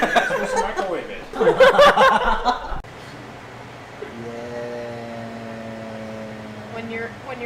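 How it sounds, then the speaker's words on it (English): A microwave oven heating chocolate in a college dorm, its steady electric hum with tonal whine running alone after an opening stretch of people talking and laughing. "Just microwave it."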